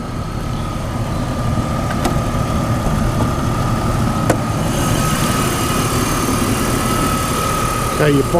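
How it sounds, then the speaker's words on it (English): A 2001 BMW E39 530i Highline idles steadily with its air conditioning running, a constant low engine hum and a faint steady whine throughout, close and even, with a couple of brief clicks and no speech. "It's got the air cons running at the moment, so you'll hear the air con going as well"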